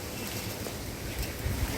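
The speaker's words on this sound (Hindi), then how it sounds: "देखिए हवा कितनी अच्छी चल रही है सुबह के टाइम" Morning wind blowing outdoors, a steady, fairly loud rush and buffet across the microphone with no voices.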